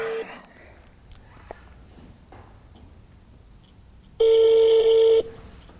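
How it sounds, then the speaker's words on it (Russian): A phone call goes out, with faint clicks and taps during quiet dialing, followed by one loud steady ringback tone of about a second near the end. "Мы звоним Лизе Всемогущей в Беларуси."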